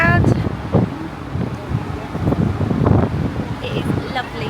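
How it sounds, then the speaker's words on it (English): Wind gusting across the open top deck of the Disney Fantasy cruise ship at sea, a steady loud rush with buffeting bursts, voices talking underneath. "It is windy."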